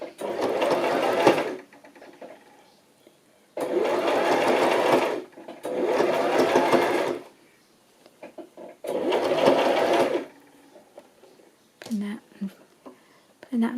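A sewing machine stitches a zigzag around a bend on a lacy cover, sounding in four short, loud bursts of close motor whirring, with brief quiet pauses between them.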